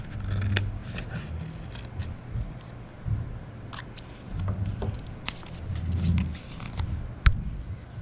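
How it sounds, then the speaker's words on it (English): Scissors or a blade cut a slot into cardboard, with close, repeated snipping and scraping over a low background hum, the strokes irregular and fairly quiet. "to cut out your slot"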